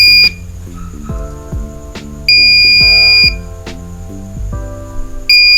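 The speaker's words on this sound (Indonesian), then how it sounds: "diharapkan ketika di bawah 40 sesuai dengan pemrograman maka buzzer ini akan berhenti" An Arduino buzzer in a temperature-monitoring setup sounds loud, piercing beeps in three separate bursts. Quieter electronic tones play between them at close range.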